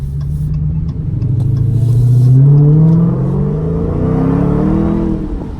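A 2019 Dodge Hellcat's engine revs up loudly and close by, a deep supercharged roar that climbs in pitch, holds, then eases off and swells again, with no talk over it.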